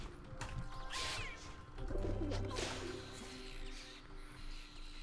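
Birds cooing within SMITE gameplay, soft low coos mixed with mechanical clicking and ambient game sounds, moderately faint and steady throughout.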